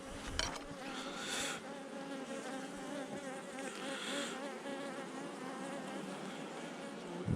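Italian honeybees (ligustica) buzzing at an open hive in September, a dense, continuous swarm drone with individual bees passing close now and then, no talking.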